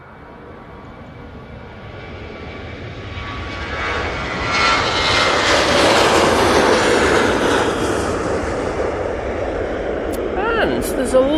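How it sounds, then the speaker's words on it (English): A Ryanair Boeing 737-800 jet departs Manchester Airport for Palma de Mallorca, its engine roar building steadily to a broad, loud, sustained rush, with a brief higher whine near the end. "Off to Palma de Mallorca with his 737-800."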